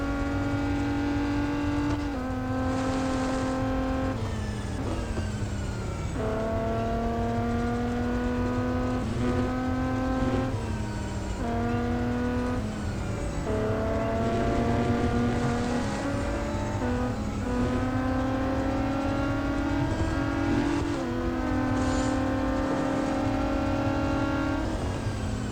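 Racing car engine in a racing game, a loud continuous whine that climbs through the revs and drops at each gear change, sustained and close throughout with no talk.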